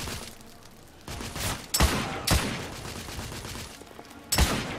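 Gunfire in the video game The Order: 1886: several sharp, loud shots and short bursts crack out against a steady rumbling background, with gaps between the volleys.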